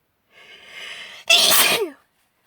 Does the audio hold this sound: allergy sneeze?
yes